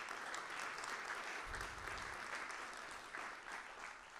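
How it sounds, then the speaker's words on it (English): An auditorium audience at an innovation awards day keynote applauds the academic deans: steady, dense clapping from a large crowd fills the whole stretch, with no voices over it. "A round of applause for them."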